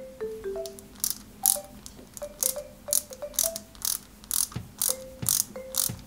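Small screws are driven into the steering rack of a 1/8 scale Subaru Impreza WRC 2003 model kit, giving a series of crisp ratcheting clicks and squeaky turns in quick irregular bursts, close up with no talking.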